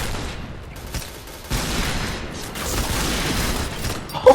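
Gunfire in the shooter video game Point Blank, a scattered run of sharp shots and bursts with mechanical clicks, loud and close, ending in a sudden louder report.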